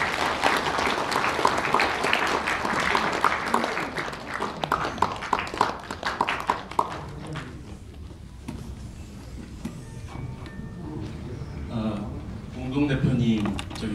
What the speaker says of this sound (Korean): 저희들 박수로서 후보님들에게 격려를 한번 부탁드립니다